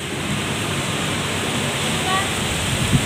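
A steady rushing of flowing water fills the scene, continuous and broad, a river heard from above at a short distance, at Don Salvador Benedicto.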